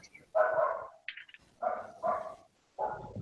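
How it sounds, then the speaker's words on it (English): A dog near a gate barks in several separate bursts, with short pauses between them, fairly close and clear, with a brief higher yip in the middle. "I heard a dog bark"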